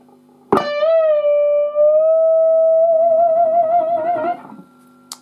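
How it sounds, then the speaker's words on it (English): A sustained electric guitar note slowly bends up in pitch and settles into a wavering vibrato, holding for several seconds before cutting off. "and that sound like this, with a bit of vibrato on it as well."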